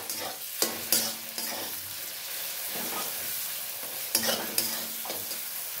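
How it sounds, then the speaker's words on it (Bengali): Chicken and potatoes stirred with ground turmeric, chili and coriander in a pan, with repeated sharp scrapes of a spoon over a constant frying hiss, close and fairly loud. "যে মশলাগুলো দিয়ে খুব ভালো করে মিশিয়ে দেবো।"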